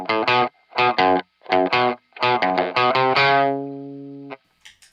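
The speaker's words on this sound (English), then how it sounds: "So the overdrive is good for getting like just vintage rock sounds." An electric guitar through The Color Box overdrive pedal plays a run of short, gritty chords, then lets a final chord ring out and fade before a brief scrape.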